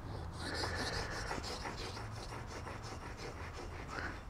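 A Veritas cabinet scraper blade is rubbed flat to remove the burr, making a quick rhythmic scraping rasp of repeated close strokes, with no talk over it.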